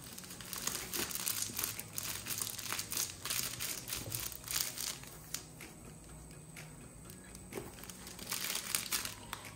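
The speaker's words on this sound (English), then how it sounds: "It has a squeaker, a crazy crinkle, and packed with fluff." A kiss-shaped plush crinkle dog toy from a February BarkBox is squeezed and handled, and its crinkle layer gives steady, close crackling and rustling throughout with brief sharper bursts.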